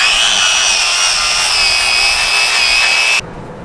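A power tool grinds steadily through fiberglass on a boat's prop strut mounting, a loud continuous high-pitched whine lasting about three seconds before cutting off abruptly.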